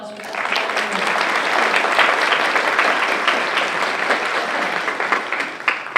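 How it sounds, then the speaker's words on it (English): A short burst of audience applause at a school district geography bee, swelling quickly and holding steady before tapering off at the end. "So let's give them a round of applause for that."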